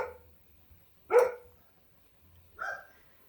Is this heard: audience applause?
no